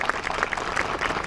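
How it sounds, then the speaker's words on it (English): Audience applause at a public library's grand reopening, a steady wash of many hands clapping with dense, even texture throughout the short burst, fairly close and without talk. "I think we all should take a minute to give Mayor Galvin a round of applause for his efforts on this project."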